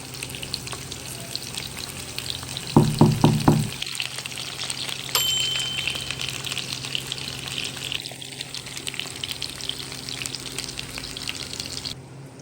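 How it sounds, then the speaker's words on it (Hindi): Seekh kababs fry in a karahi with a continuous crackling sizzle, broken midway by a short burst of sharp metallic clatter from turning them, then the steady frying carries on alone. "अब हम इस साइड को भी 2 से 3 मिनट के लिए अच्छे से फ्राई कर लेंगे"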